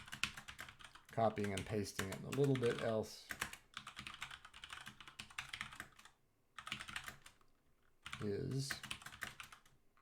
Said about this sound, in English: this is the last time I'm typing it before I start